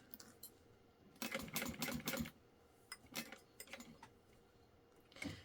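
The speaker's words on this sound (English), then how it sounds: "I am stitching at about 1/8 of an inch, so kind of like your standard top stitch." A sewing machine topstitches a purse about 1/8 inch from the edge, running in short rapid bursts with pauses between them, fairly close and moderately loud.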